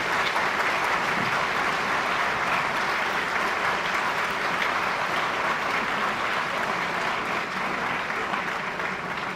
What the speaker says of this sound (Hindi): तालियों से उनका स्वागत किया जाए।